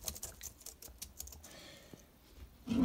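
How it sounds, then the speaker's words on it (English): Close-up typing on a computer keyboard, quick irregular clicks and taps in short bursts, followed by a louder rustling noise at the end. "No, keyboard."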